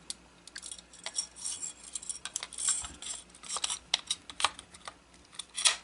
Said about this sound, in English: Replace the recoil spring.